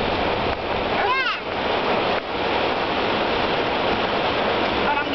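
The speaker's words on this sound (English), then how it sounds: "Jason, you see all that water splashing up here?" Water splashes and sprays steadily as a fire truck drives fast through standing water during a parade, a continuous loud rushing wash with a brief whistle-like tone and no talk.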